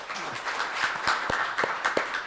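Audience applause at a Korean security policy seminar on lessons from the Ukraine war, a moderate crowd of distinct hand claps in a steady patter, fairly close and without talk.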